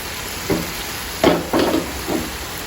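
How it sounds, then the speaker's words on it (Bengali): A spice paste of turmeric, chili and coriander sizzles in a pan, with a soft steady hiss under a few short stirring scrapes, heard alone and close. "মশলাটা ভালো করে কষিয়ে নেব এখন আমি।"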